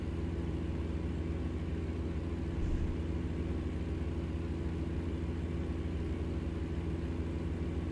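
A low, steady truck engine drone in the video game American Truck Simulator hums continuously at an even pitch, like a heavy vehicle cruising, with no talking over it.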